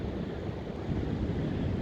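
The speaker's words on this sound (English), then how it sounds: "I'm actually really close to the waves now" Ocean waves breaking on a Cornish beach: a close, continuous roar of surf with heavy low rumble and wind buffeting the microphone, with no voices.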